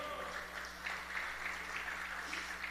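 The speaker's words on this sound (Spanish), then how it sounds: "Dele un fuerte aplauso al Señor en esta hora." Church congregation applauding during a sermon, a steady, fairly faint wash of clapping with a low hum beneath and a voice occasionally rising over it.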